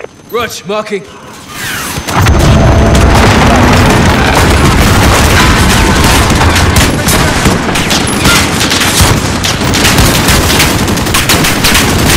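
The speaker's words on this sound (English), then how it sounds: "put a hellfire on that building" A Hellfire missile strike hits a building in Modern Warfare, a loud sustained roar of blasts and heavy gunfire that erupts after a brief quieter opening with voices and keeps going dense and close.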